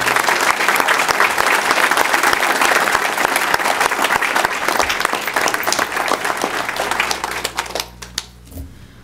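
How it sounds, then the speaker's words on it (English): Loud, sustained audience applause fills a board of education meeting room, a dense crowd of clapping hands that holds steady for several seconds, then thins into a few scattered final claps and stops. "If we just do another round of applause for both of them."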